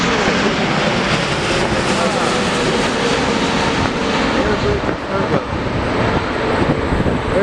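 An AirBridgeCargo cargo jet arrives at O'Hare airport with a loud, continuous engine roar and rushing wind noise, while a voice speaks over it.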